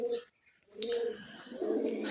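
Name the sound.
pigeons cooing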